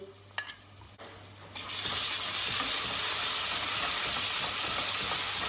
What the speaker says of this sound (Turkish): Yine en kısık derecede domates salçasıyla biber salçasını bir kavuracağız.